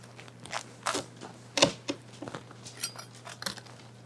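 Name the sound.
knife cutting crispy sourdough focaccia crust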